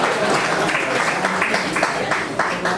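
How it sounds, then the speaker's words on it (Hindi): Audience of women clapping at a Bihar BJP budget discussion event, a steady, dense patter of applause filling the hall, fairly loud throughout the short stretch. "महिलाएं ताली बजा रही"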